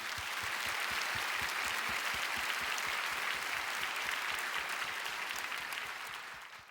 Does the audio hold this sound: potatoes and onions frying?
no